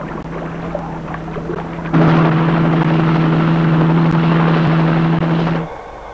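A helicopter flies over Arctic pack ice, its rotor and engine drone swelling suddenly to a loud, steady roar with a strong low hum, holding for several seconds before dropping away again.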